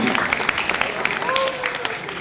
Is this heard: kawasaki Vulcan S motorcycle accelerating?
no